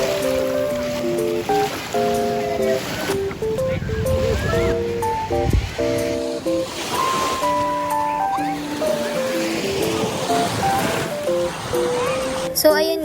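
Sea waves wash onto a beach in Marinduque with a steady broadband rush of surf, heard fairly faintly beneath louder music that plays throughout.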